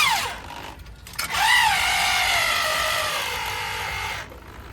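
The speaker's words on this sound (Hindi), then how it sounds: "इसी ड्रिल मशीन से आराम से जो है ना इसको टाइट कर लेंगे" A handheld drill machine driving and tightening screws during an installation: a brief start, a pause, then a sustained whirring run of about three seconds that rises in pitch and holds steady before stopping, close and fairly loud, with no talk.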